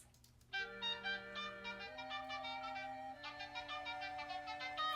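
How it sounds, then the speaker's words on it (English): Breathy software Peruvian panpipe tones playing a slow melody, sustained notes stepping between pitches, soft and mellow. "now I got this like flute dialed in, or these Peruvian panpipes,"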